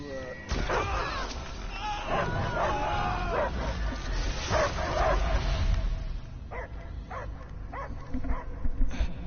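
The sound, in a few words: dog barking in Guardians of the Galaxy video game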